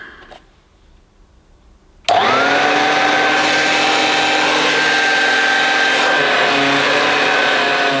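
A Dirt Devil Handy Zip handheld vacuum cleaner switches on abruptly after a quiet room and runs loud and steady with a high motor whine, near and alone.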